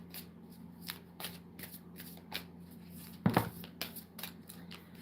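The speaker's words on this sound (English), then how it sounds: "I have to shuffle my cards good" Tarot cards being shuffled by hand, with repeated soft riffling and flicking bursts and one louder slap of the deck, close and quiet, with no talk.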